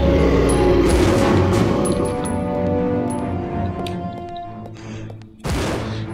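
Gunfire in the Resident Evil Zero video game during a boss fight against a Tyrant, a loud blast with echoing reverberation that gradually decays, followed by a second sharp shot near the end, with no speech.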